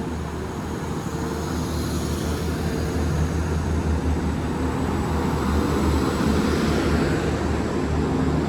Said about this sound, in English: There goes 175 102 on the 1052. Transport for Wales service to Manchester Airport